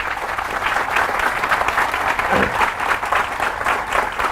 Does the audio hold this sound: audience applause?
yes